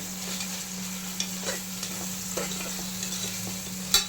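Tomatoes sautéing in a pan for ghee rice give a steady, close sizzle with a few soft stirring scrapes and a sharper clink near the end; no one speaks.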